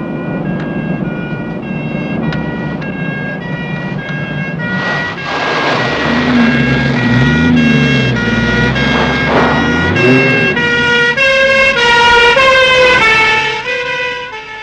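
Close, loud sirens wail and warble continuously, overlapping with several tones, while a heavy vehicle engine rumbles beneath them. No voices are heard.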